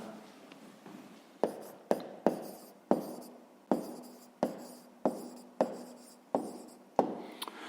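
A pen scratches on paper while a math problem is worked out, with repeated short strokes and taps in an uneven rhythm, close and fairly quiet, with no talking.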